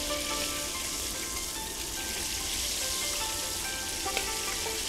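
Seafood blanches in hot cooking oil with a steady, loud, dense sizzle that holds evenly throughout, no voices over it.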